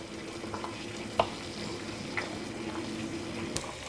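American groundnut slices frying in butter in a pan, a steady soft sizzle with a few brief clinks from stirring, close and with no talking.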